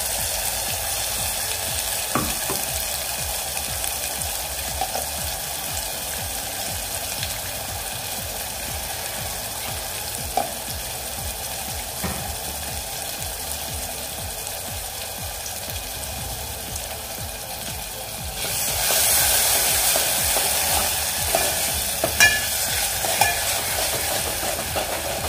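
Masala for takachi kadhi (buttermilk curry) fries on a low gas flame, a steady close sizzle with occasional clicks of stirring, growing louder and brighter partway through.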